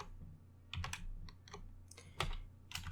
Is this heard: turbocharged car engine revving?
no